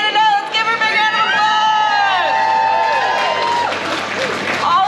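Crowd at a pin-up contest applauds and cheers for a newly introduced judge, a steady wash of clapping and voices with whistle-like tones rising over it, loud and continuous throughout.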